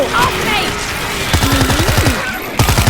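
Rapid automatic gunfire from the World War Z Aftermath video game, close and loud in steady repeated bursts, with a voice talking over it.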